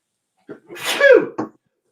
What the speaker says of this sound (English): Yep, I'm going to sneeze.